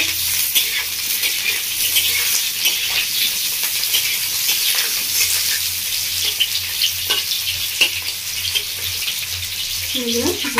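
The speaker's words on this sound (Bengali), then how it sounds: "ঘির মধ্যে আমি পটলগুলোকে দিয়ে দিচ্ছি এবার প্রথমে ভালো করে ভেজে নেব" Pointed gourd (parwal) pieces frying in ghee, a loud, steady close sizzle with occasional stirring clicks and a low hum underneath, without talk.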